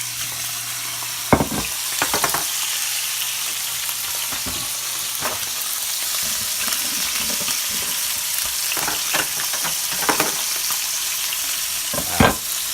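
Steak fries in olive oil on a hot plate with a steady, loud hiss and sizzle throughout. Crackles and spits pop up now and then, along with a few scraping knocks.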